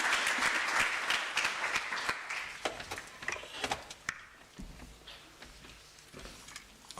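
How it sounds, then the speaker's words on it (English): A research and innovation week audience applauds after a presentation, a sustained, fairly faint wash of many hands clapping that thins into scattered claps toward the end, with no talk over it. "How about another round of applause for such a wonderful presentation?"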